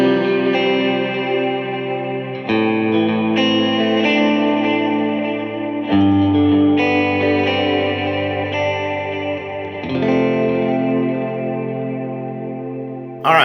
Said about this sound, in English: Now I'm going to turn on like a bigger dotted eighth delay and a bigger reverb